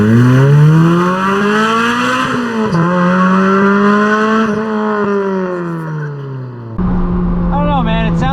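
Lotus Elise sports car with a new aftermarket exhaust, its engine revving hard in long rising and falling shrill wails, loud and close, then dropping to a lower idle burble with quick blips.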